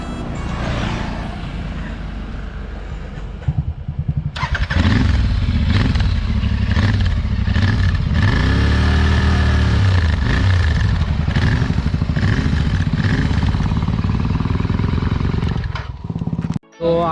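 A stock-exhaust Royal Enfield Interceptor 650 Mark 2 motorcycle idles after a brief startup, then revs repeatedly with loud, throaty bursts close by, settling back between blips before cutting off abruptly at the end.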